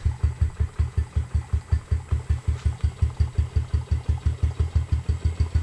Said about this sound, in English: It idles very low at first.